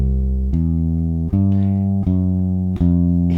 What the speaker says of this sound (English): make sure that you're using full held note durations, okay? So, it should sound like this.